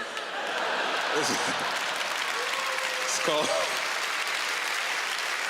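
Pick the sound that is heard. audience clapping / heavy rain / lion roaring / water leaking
audience clapping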